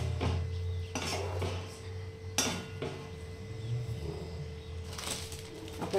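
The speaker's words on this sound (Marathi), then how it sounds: "तर आपण हा साबुदाणा असं छान असं परतून घेऊया." Sabudana khichdi stir-fried in a pan, quiet scraping and clinks of a spoon against the pan at irregular intervals over a low hum, close up with no talking.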